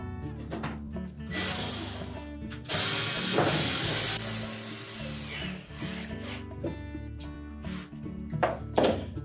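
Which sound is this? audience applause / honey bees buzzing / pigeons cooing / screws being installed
screws being installed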